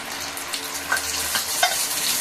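Ground cumin, green chili and ginger paste frying with black cumin and pointed gourd in a pan, a loud steady sizzle with occasional stirring scrapes.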